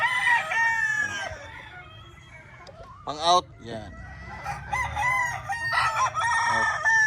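Fighting-cock roosters crow loudly and repeatedly, several calls overlapping, with hens clucking in between and someone briefly speaking.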